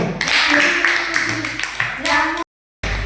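An audience claps for a student group in a school presentation, with a brief burst of applause that breaks off into a short silence before resuming.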